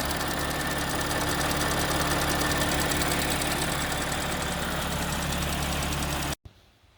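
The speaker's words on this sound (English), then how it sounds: "If you guys can hear that ticking noise on camera, I'm not sure, but please comment below what you guys think that is." Audi 3.0T engine idling steadily with a faint, continuous mechanical ticking that comes and goes, running loud and close for about six seconds before cutting off abruptly.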